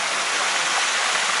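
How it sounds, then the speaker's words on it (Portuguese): A waterfall, reached after a three-hour hike, roars close by as a loud, continuous, full-bodied rush of falling water with no pauses and no voices. "esta incrível cachoeira, depois de 3 horas de caminhada"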